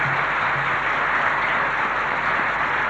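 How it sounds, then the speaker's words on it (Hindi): Steady applause from a live audience at a Hindi spiritual gathering on sadhana for Maa Jagdamba, a continuous dense wash of clapping holding at even loudness throughout with no voices over it. "आप जोरों से तालियां बजा करके इन्होंने प्रश्न किया इसके लिए"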